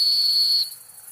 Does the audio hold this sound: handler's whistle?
yes